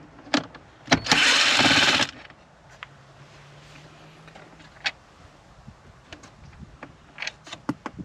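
A tool removes 8mm bolts from the climate control panel of a Range Rover Sport. A single brief, close whirring burst is followed by scattered small clicks and taps.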